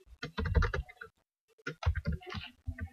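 Keystrokes on a computer keyboard as a command is entered into a server console, a quick run of clicky taps in two bursts separated by a short pause, close and fairly loud.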